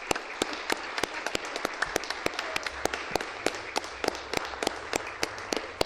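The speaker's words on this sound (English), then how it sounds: "Can everybody give him a round of applause and a standing ovation?" Sharp, separate claps ring out at a quick, uneven rhythm in a legislative chamber, sounding like a small group applauding rather than a full crowd.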